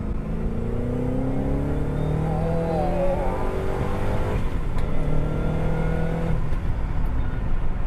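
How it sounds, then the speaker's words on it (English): A prototype Ford GT's Ford Performance exhaust revs up and down loudly and close, its note rising and falling in pitch over a steady rumble. "let's hear a little bit of that Ford Performance exhaust for a second here."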